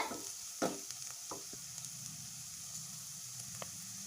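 Ginger and garlic frying in a pan give a quiet, low sizzle with a sharp stir or spatter near the start and a few light clicks after.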